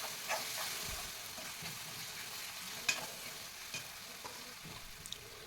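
Masala gravy for brinjal curry is stirred and fried in a pan, giving a faint, soft sizzle broken by occasional scraping clicks of the spoon.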